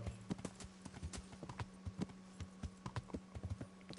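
Pebbles, a horse in Kingdom Come: Deliverance, trots up with steady, fairly close clip-clop hoofbeats over a low, continuous ambient hum, with no talk.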